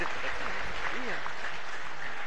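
Audience applause at the first Bima city 2018 regional election debate, a steady broad wash of clapping filling the room while a voice talks over it.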